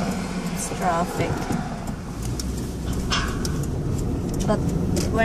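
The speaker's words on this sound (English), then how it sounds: "Traffic," Road traffic passes outside a car in New York, a steady wash of engine and tire rumble with a voice talking over it.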